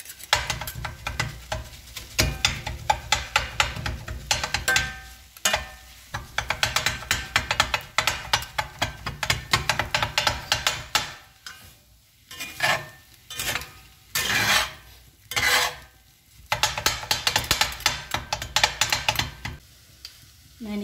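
Two spatulas chop parotta roti on a hot pan for kottu parotta, with rapid, rhythmic metallic clacking in steady bursts over a faint sizzle, near and loud and broken by brief pauses.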